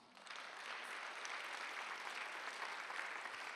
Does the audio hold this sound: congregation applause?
yes